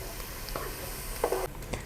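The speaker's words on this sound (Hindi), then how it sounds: "ऑयल गर्म हो चुका है, इसमें डालेंगे कटा हुआ लहसुन" Chopped garlic frying in about a quarter cup of hot oil, a soft steady sizzle with a brief louder crackle and some faint clinks partway through.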